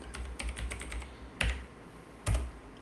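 Typing on a computer keyboard: a quick run of close key clicks, then two louder, separate keystrokes, alone without talk.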